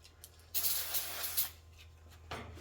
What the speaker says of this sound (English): just gonna take a rag and spray some brake clean on it